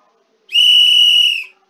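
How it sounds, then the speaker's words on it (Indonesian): A whistle blown once in a single sustained, shrill tone of about one second that starts and stops cleanly, loud against silence. "Contoh kedua adalah peluit yang ditiup."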